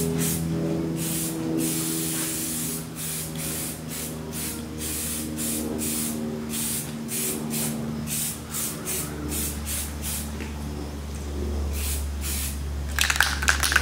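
An NC-based paint spray can coats a bull's horns in short, rapid bursts of hissing spray, one after another in a steady, close rhythm over a low background hum.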